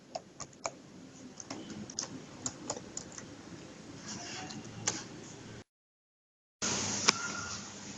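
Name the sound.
laptop keyboard clicking into place when pressed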